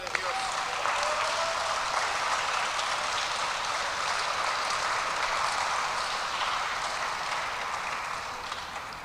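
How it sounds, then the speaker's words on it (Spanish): Sustained applause from a church congregation during a Spanish-language sermon, a dense, steady wash of many hands clapping that holds at an even level for the full stretch before tapering slightly at the end. "demos un aplauso a la palabra de Dios."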